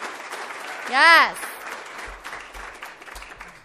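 Audience applause at a chamber of commerce board installation event, a steady wash of clapping throughout, with a voice speaking over it.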